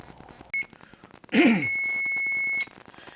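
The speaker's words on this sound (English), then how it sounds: "That's the alarm that says our dough is done." A short beep, then a longer sustained electronic beep from a kitchen timer, with a brief sigh-like voice just before it.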